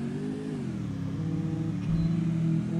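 A motorbike in the battle-royale game Free Fire pulls away, its mid-pitched engine droning steadily and rising as it accelerates, loud and close with no talk over it.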